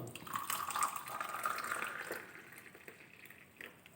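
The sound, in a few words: tea being poured into honey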